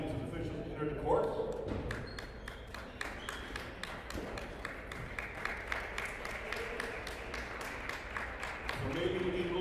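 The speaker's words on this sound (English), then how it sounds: "let's give a round of applause as these athletes and officials enter the court" Spectators at a college national table tennis championship clap as athletes and officials walk onto the court. The claps are sharp and fairly regular, heard from a distance in a large hall, with a voice talking over parts of it.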